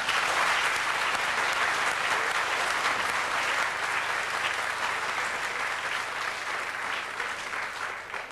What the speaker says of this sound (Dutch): Applaus voor u, meneer Van Acht.